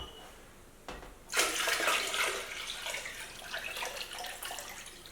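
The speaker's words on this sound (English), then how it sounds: "So I'll finish up with the last bit of water in here." Water pours into a homemade ginger beer mixture, starting with a brief splash and then settling into a continuous moderate rushing stream that runs to the end.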